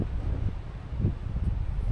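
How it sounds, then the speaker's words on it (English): Low wind rumbles steadily against the microphone, swelling in soft gusts with no voices. "it's windy, so I'm going to turn this off"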